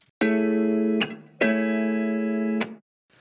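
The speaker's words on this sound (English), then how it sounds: "So for the guitar, if I take off all of the effects," A clean, undistorted guitar plays two sustained notes, each ringing for about a second with a crisp attack.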